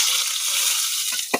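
Onions fry in a pan for an outdoor forest-cooked bamboo shoot dish, giving a steady hissing sizzle that ends in a sharp clack of a utensil.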